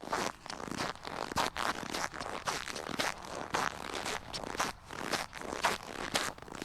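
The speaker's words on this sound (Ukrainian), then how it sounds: "Сніг скрипить під ногами." Rhythmic crunching steps through snow in a forest, each footfall a crisp compressed crackle repeating at a steady walking pace, close and fairly loud.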